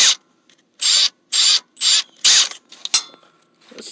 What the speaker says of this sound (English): So I got this drill. It is on the absolute weakest mode. It's not an impact, but I have it on 1.